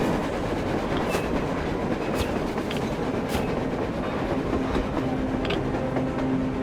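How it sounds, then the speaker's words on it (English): A train in the video game Metro Exodus rumbles steadily nearby with a rolling, rattling drone and occasional metallic clacks, continuous throughout. "A train! A damn train on the surface!"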